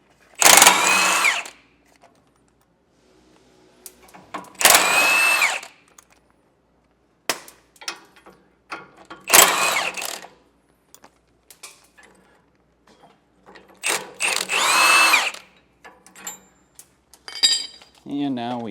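A cordless drill drives off 13 mm nuts on a 2020 Thor Four Winds RV chassis, in four loud whirring bursts of a second or so each, spaced several seconds apart, with quiet clinks and handling noises between them.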